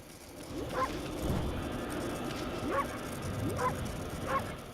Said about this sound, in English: There's a bark button! Woof, woof, woof.